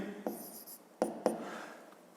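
A pen scratches out math working on paper during a fifth-grade arithmetic exercise, with a few quick, close, dry strokes and taps between quiet pauses.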